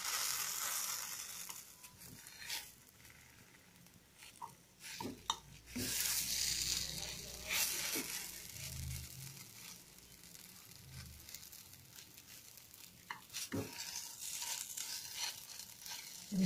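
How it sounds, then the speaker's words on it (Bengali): Carrot patisapta fries quietly in a pan, giving a faint crackling sizzle with scattered scrapes and soft taps of a utensil. "আর আমি আস্তে আস্তে আস্তে ভাজতে দিই।"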